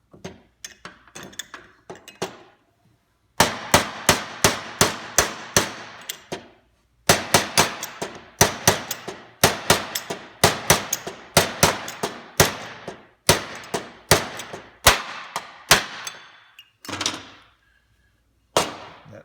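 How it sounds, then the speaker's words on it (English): Sharp metallic smacks ring out one after another in steady bursts while wheel bearings are driven out by hand, each hit loud and close with a short ringing tail and brief pauses between volleys. "That smack was us hitting the table."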